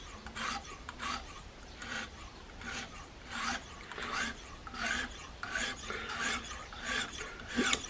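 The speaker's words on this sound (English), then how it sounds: "these diamond stones really do seem quite aggressive. They remove quite a lot of metal" Knife blade rubbed back and forth on a medium grit diamond sharpening stone, a close, steady series of about a dozen rasping strokes in even rhythm.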